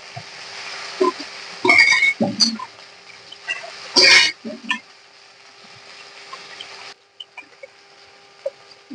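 Nigella seeds and a chili splutter in hot oil in a pan, with loud bursts of crackling and popping that ease into a quieter sizzle, then fade away.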